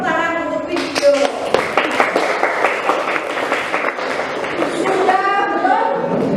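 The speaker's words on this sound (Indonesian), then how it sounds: "Kita beri tepuk tangan untuk video." Classroom audience clapping for a video, a scattered round of hand claps with thumps and taps, mixed with voices, moderately loud and fairly close.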